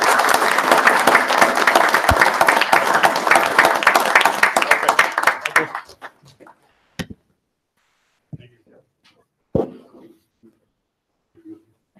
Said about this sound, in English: if we can give him a round of applause for the employee